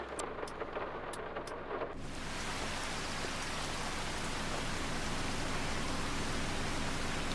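Steady rain pours in Farming Simulator 25, a dense hiss that swells after a couple of seconds and stays loud and even, with a few faint clicks early on and no voices.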